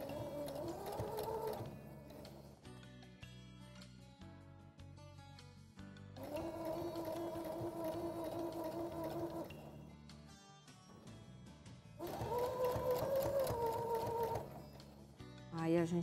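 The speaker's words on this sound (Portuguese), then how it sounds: "Aí a gente vai sempre devagar para poder ter controle, né, das voltas da máquina" A sewing machine runs slowly in three separate stretches while stitching a small sheep-shaped children's keepsake, with quiet handling sounds in the pauses between runs.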